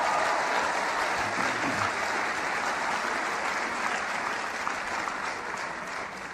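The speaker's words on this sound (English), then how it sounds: "Give yourselves a round of applause." A large crowd at a motivational speaking event applauds, a thick, sustained roar of clapping that stays strong and then gradually tapers off toward the end.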